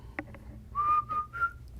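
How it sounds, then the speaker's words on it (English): A person whistles a short run of rising, sliding notes, three clear phrases close to the microphone in a quiet room after a couple of soft clicks. "Why are you whistling?"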